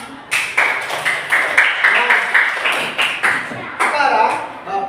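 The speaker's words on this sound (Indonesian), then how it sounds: "Tepuk tangan, anak-anak semuanya." Children clap in a quick, fairly even rhythm for several seconds in a classroom, with voices murmuring underneath.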